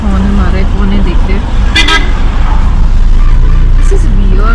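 A car horn honks loudly on a forested road near Kodaikanal, with a couple of sustained blasts over a constant, close engine and traffic rumble.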